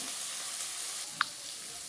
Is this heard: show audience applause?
no